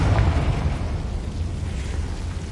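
A Confringo blast spell exploding in Hogwarts Legacy, a single deep rumbling boom that hits at the start and slowly decays into a low roar, heard alone with no talk.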